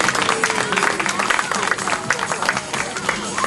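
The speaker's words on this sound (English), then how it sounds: "Give Amy a big round of applause." A live audience applauds Amy on stage at a 2008 event in Menorca, producing dense, continuous clapping mixed with crowd noise. It stays loud and busy for the whole stretch.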